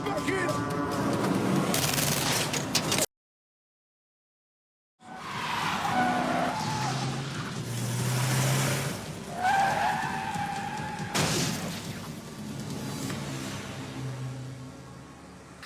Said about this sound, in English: it turns to this, I'm not even joking, disgustingly ugly car chase.